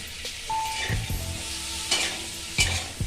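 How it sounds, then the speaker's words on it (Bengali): Chopped onion and capsicum fry in a little butter in a pan, with a steady sizzle broken by several sharp spatula scrapes and knocks against the pan, close and clear with no voices. "এটা ভেজে এটা খুব বেশি কড়া করে ভাজবো না"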